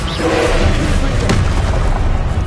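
A Confringo fire spell blasting in Hogwarts Legacy, with one sharp booming burst near the middle over a constant, dense game soundscape.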